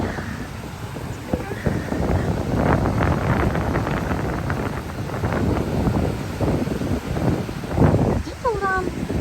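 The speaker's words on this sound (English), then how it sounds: "It's crazy windy." Strong wind buffets the microphone on an ocean beach at night, gusting in rough bursts, while people talk nearby.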